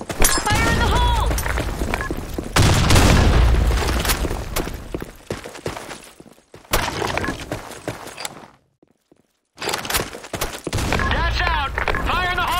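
Grenade blast and bursts of gunfire in a shooter video game: a heavy boom rolls in early, surrounded by rapid, loud volleys of shots, with brief game voice callouts at start and end and a short silent gap near the close.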